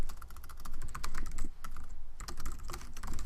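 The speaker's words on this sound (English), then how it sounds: "So you would just type in your text here," A computer keyboard clatters with steady, rapid typing of text into a property listing page, dense keystrokes close by with one brief pause midway.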